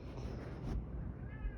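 A cat meows softly in the background of a quiet outdoor setting, one brief call over low ambient noise.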